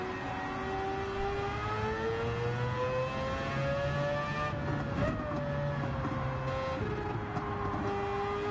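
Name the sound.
car passing in Gran Turismo 7 video game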